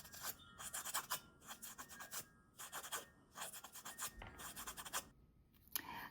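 A nail file rasps across trimmed press-on nails in quick, close, repeated strokes, with short scratchy bursts and brief pauses between them, soft and intimate with no talking.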